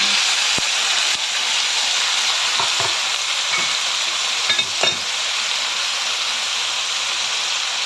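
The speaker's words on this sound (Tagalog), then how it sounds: "Mag-fry na tayo muna guys" Food fries in a pan with a loud, steady hiss of oil and sizzle, broken by a few faint clicks and taps.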